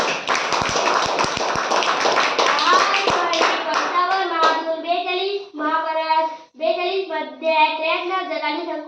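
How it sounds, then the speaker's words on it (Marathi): Schoolchildren in a classroom clap together in a fast, loud burst that fades after a few seconds, followed by children chanting numbers in unison. "तुझ्यासाठी ही संख्या आहे टाळ्या वाजवा रे"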